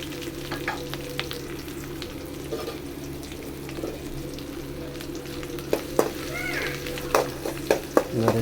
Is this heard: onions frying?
yes